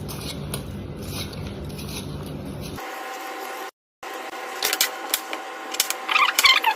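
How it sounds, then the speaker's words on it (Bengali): A potato being peeled by hand in a home kitchen: after a stretch of background noise, a series of quick, dry scraping strokes comes through close up, irregular and fairly faint. "তো সেটার জন্য আমি আলুটা এরকম ছাড়িয়ে নেব"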